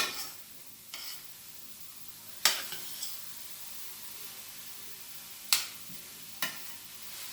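Sausage, tomato and cream pasta sauce stirred in a pan: quiet soft sizzling throughout with a few sharp spoon taps against the pan rim, close and alone.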